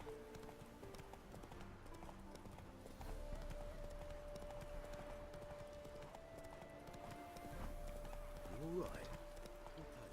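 Horse hooves galloping in the video game The Witcher 3, a rhythmic clip-clop that grows louder partway through, with someone speaking briefly over it.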